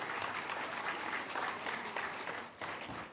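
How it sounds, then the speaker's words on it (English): Parents in a school hall applaud at an annual prize day and silver jubilee celebration, a steady, full round of clapping that holds fairly even before thinning slightly near the end. "Let's give them a big round of applause"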